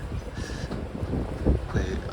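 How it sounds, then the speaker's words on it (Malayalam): A ferry pulls away from Doolin into rough Atlantic sea as strong wind buffets the microphone. A low, uneven rumble of wind and churning water runs throughout, with gusty swells and no clear speech. "കാരണം നല്ല കാറ്റും കടൽ അത്യാവശ്യം നല്ല റഫുമാണ്"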